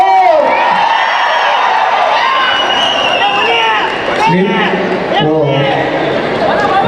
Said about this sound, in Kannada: ಏ ಬಾಳು ಫ್ಯಾನ್ಸ್ ಚಪ್ಪಾಳೆ ಹೊಡಿರೋ.